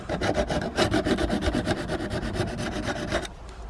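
A garden tool blade is sharpened with a file, giving a quick run of even, rhythmic rasping strokes close up that continue steadily for about three seconds and then stop abruptly.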